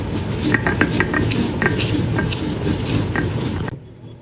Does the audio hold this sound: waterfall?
no